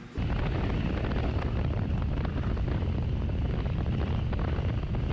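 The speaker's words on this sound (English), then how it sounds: "wind's blowing hard as all get out" Strong wind roars steadily across the microphone while riding a motorcycle, a loud, continuous broadband rush with low buffeting rumble that never lets up.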